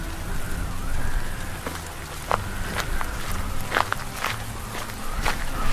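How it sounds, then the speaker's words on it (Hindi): Heavy rain pours steadily in cold, windy winter weather while footsteps splash through it, with sharp irregular steps standing out above the dense, close hiss of rainfall. "तेज बारिश और सर्द हवाओं के बीच"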